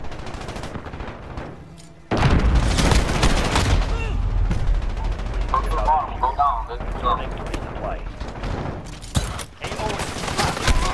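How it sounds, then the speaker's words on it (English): Cruise missile strike in Call of Duty Modern Warfare during a Headquarters match on Granza Raid: a sudden loud explosion followed by sustained rumbling blasts and gunfire, with voices talking over the chaos. "Cruise missile ready to launch."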